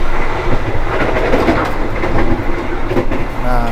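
Jaka Tingkir economy passenger train running between Solo and Jogja, a loud steady rumble with rhythmic clickety-clack of wheels over rail joints, heard from inside the carriage near the restaurant car.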